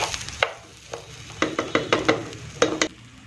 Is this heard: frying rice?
yes